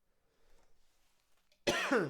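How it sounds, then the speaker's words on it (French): One harsh, close cough bursts out suddenly after near silence, loud and raspy. "Excusez-moi, je tousse."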